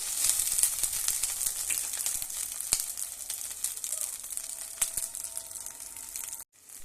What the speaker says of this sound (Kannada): ಈರುಳ್ಳಿ ಫ್ರೈ ಆಗಬೇಕ್ರಿ